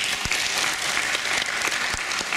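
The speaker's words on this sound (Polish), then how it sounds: "Wielkie brawo." Applause from an audience in an outdoor amphitheatre, honouring a culture award laureate: steady, dense clapping that fills the space, even in level from start to finish.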